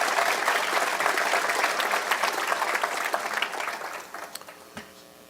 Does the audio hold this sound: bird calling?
no